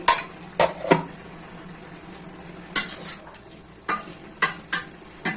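A pan of bottle gourd greens with small shrimp, cooked until tender with green chillies, being stirred over low frying sizzle, with sharp scraping and clanking bursts of the spatula against the pan at irregular intervals.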